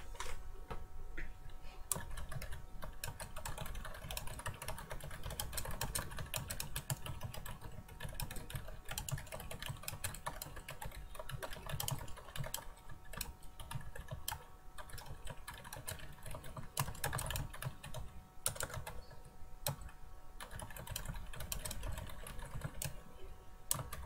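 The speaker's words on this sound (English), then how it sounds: "type the following text and press Enter at the end of each paragraph" Someone types text on a computer keyboard in a steady run of close, crisp key clicks, with short pauses and bursts that may be the Enter key at paragraph ends. It keeps going for about twenty-four seconds, with no talking.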